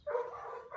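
One dog in a village neighbourhood gives a single short, close bark that carries into a brief whining tail.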